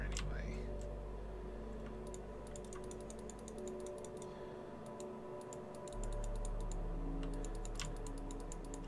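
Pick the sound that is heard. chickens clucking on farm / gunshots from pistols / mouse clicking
mouse clicking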